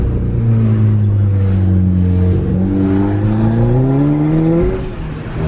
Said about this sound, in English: diagnosing like a really heavy misfire on a TFSI engine